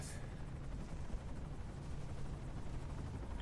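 A helicopter in Metal Gear Solid V: The Phantom Pain, Miller's chopper, drones as a steady low rotor rumble that fills the whole stretch at a constant, moderate level.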